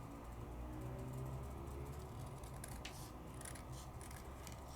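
Scissors trimming paper vellum, a close run of crisp snipping and slicing cuts over a steady low background hum, no talk.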